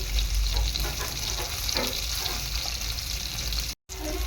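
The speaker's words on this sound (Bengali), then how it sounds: "আর এই যে পনিরটা ফ্রাই করছি" Paneer fries in a pan with a continuous close sizzle and crackle, loud and steady without voices. The sound drops out for a moment just before the end.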